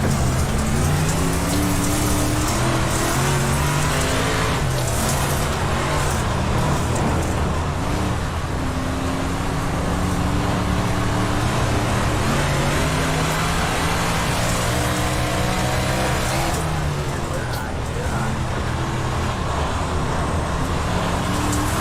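Modified race cars roar together in a racing video game practice session, a dense, loud, continuous engine drone with shifting pitch sweeps and constant road-like noise throughout.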